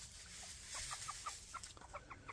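A Gary Gilliam roundhead gamefowl hen clucks in a rhythmic series of short, soft calls, fairly close, over low background noise with no voices.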